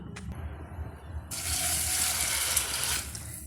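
Water poured from a tap or jug over puffed rice in a bowl, a steady close gushing stream that starts suddenly after a quiet moment and runs on evenly, with faint handling sounds before it.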